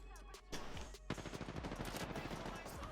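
Video game gunfire crackles in a rapid automatic burst, quick shots hammering close and loud over a few seconds while a voice speaks over it.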